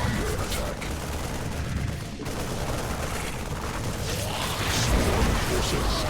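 Game battle sounds from a StarCraft Zerg-versus-Terran match as the swarm comes under attack: a dense, steady clatter of rapid gunfire and booms running continuously at close range, swelling slightly louder toward the end.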